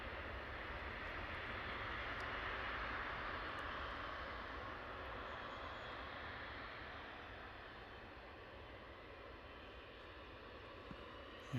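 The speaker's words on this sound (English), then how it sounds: "KLM A321neos on approach." KLM Airbus A321neo jets on approach at Manchester Airport, heard as a steady, broad engine roar that holds loud throughout and fades only slightly toward the end, with no talk over it.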